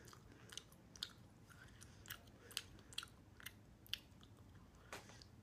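Someone chews a hard, tough British sweet, close to the mic and quiet, with soft wet crunches and bites recurring every half second or so.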